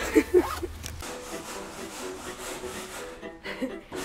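Steady abrasive scraping of rust off metal, a continuous rasping texture that runs almost without a break, with a few brief louder knocks near the start and a short dip before the end.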